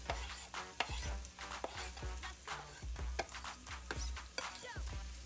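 Onions, scallions and garlic sauté in a pan for Jamaican brown stew fish, a close, soft sizzle broken by repeated sharp clinks and scrapes of a utensil stirring against the pan.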